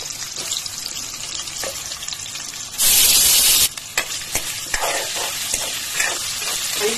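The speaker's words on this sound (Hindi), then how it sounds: "तेल हमारा गरम हो जाए तो इसमें आलू डाल के हम थोड़े से फ्राई करेंगे।" Potatoes go into hot oil, and a sudden loud burst of crackling sizzle flares for under a second, then settles into lighter frying with occasional stirring clatters nearby.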